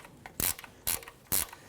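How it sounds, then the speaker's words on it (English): Three quick ratchet bursts loosening a 14mm bolt on the lower starter of a 2005-2021 Nissan Frontier 4.0L V6, each a short, close, sharp clicking rasp spaced about half a second apart. "Now as you loosen this bolt"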